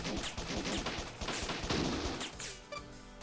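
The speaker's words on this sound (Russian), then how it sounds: "Нажмите кнопку A, чтобы стрелять из пистолета, вашего базового оружия." Rapid pistol shots from a shooting video game ring out in a fast, dense string of sharp bangs, loud and continuous for about three seconds, with no talking over them.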